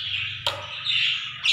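Nias hill myna giving sharp, loud whistled calls close by, a brief clear note followed by a sustained bright whistle and another abrupt call at the end, over faint low background hum.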